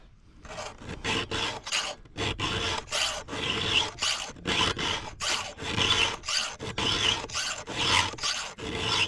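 Hand file sharpening the chain of a STIHL MS 462C chainsaw out in the field, a rhythmic series of close, sharp rasping strokes, roughly twenty in quick succession with brief gaps between, no voices.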